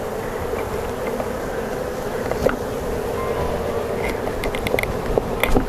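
Honey bees buzz in a dense, continuous swarm drone while being moved into a hive, close and steady, with a few sharper individual buzzes passing near.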